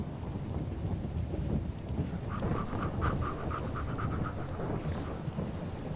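Thunder from a lightning storm in Minecraft with a localized weather mod rumbles steadily under rain and wind. A series of soft pulsing tones from the game repeats through the middle, and no one speaks.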